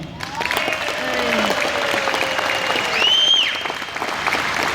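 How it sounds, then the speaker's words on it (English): Audience applause at a Texas Model A Ford tour gathering, clapping steadily for several seconds as a vote for a hard luck award, with cheering whistles and voices mixed into the sustained clatter. "We'll determine by a round of applause."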